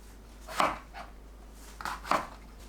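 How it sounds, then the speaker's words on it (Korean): A knife cuts through perilla leaf stems on a cutting board, giving two separate pairs of sharp, close chopping taps with quiet pauses between them. "깻잎 줄기를 잘라냅니다."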